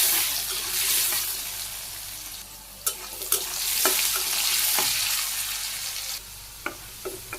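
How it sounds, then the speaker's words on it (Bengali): Potatoes fry in hot oil with salt and turmeric, giving a steady close sizzle broken by sharp scraping clicks as a spatula stirs them in the pan; no voices. "তেল গরম হয়ে গেছে, এই যে আলুগুলো আমি দিয়ে দিলাম।"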